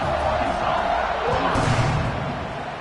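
A football stadium crowd roars steadily at kickoff, a loud, dense wash of cheering and noise that holds throughout with a slight surge midway and no clear talk on top.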